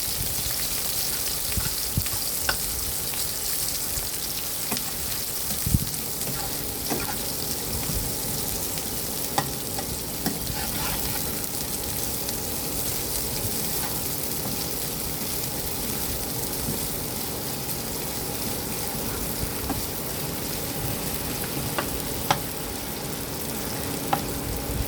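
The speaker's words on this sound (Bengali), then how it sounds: "পেঁয়াজ কুচিটাকে আমি হালকা ব্রাউন করে ভেজে নেব।" Chopped onions frying in oil until light brown, a steady close sizzle throughout with small crackles and occasional sharper pops, no voices.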